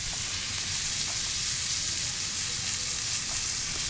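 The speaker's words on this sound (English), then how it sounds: "take some butter, get it into the pan, a couple cloves of garlic" Butter with a couple of smashed garlic cloves sizzles in a hot steak pan, a steady, close, even hiss with no talk.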